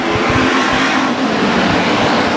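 WISSOTA street stock race cars roar around the Granite City Speedway track on the final lap, a loud, continuous blend of revving engines from several cars close by and passing, with no talk over it.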